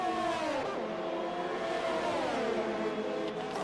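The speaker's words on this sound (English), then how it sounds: "And both cars decide to go into the pits there right now." Race cars in an F1 esports racing game at the Bahrain Grand Prix whine loudly, engine pitch falling and then climbing again as they slow and accelerate, a dense, continuous roar with no voices.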